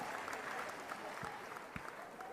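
An audience claps at a stand-up comedy show, a fairly faint, steady patter of applause with a couple of sharper claps standing out.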